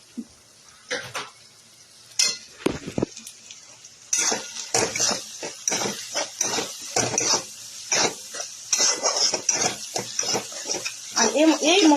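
Spiced paneer masala with turmeric and coriander powder is stirred in a pan, making repeated close scraping and clinking strokes of a spoon against metal, with a faint sizzle underneath and the pace quickening partway through.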